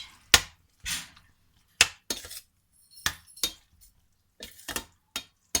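Spaghetti being mixed in a pan of tomato chutney sauce with cheese, giving a series of sharp utensil clinks and scrapes against the pan at irregular intervals, close and fairly loud, with no talking.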